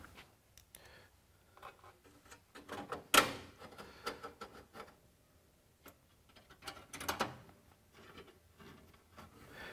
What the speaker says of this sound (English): we'll get the top screw in there first to kind of hold everything in position